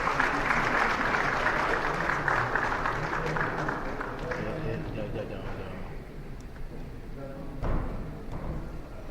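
Audience applause at a live Under 40 Champion Summit in Ghana, dense and sustained clapping that fills the room, easing slightly partway through before a brief swell near the end.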